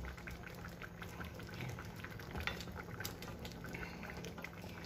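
Tilapia in coconut milk, a Bicol-style ginataang dish, simmering in a pot, giving a steady, quiet bubbling with soft crackles and drips that hold evenly throughout, with no voices over it.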